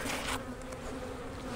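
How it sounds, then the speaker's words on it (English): Honey bees at a strong beehive make a dense, continuous buzzing drone close by, briefly louder at the start, with no voices. "So this is a good strong hive here"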